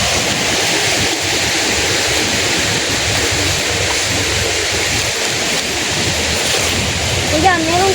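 Water rushes steadily through a creek bed refilled after heavy overnight rain, a dense continuous wash heard close and loud throughout, with a brief faint voice near the end.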